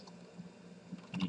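A few soft computer keyboard keystrokes, close and quiet, with a slightly louder cluster near the end and low room hum underneath.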